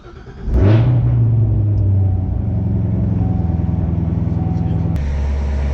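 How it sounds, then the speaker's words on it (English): A Corvette C7 ZR1 firing up cold, heard from the driver's seat: a sharp crank and loud flare of revs, then a deep, steady high idle rumble that drops into a lower burble near the end. "This is what the old cold start is like from the driver's seat."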